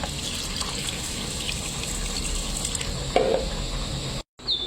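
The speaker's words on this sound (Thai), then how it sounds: "แล้วก็ใส่น้ำเข้าไปนะคะ" Water gushes into a rice cooker pot holding mixed grains, black, red, green, white and soy beans, peanuts, carrot and Japanese sweet potato. The pour is a steady, close, fairly loud stream with a brief clunk near the end.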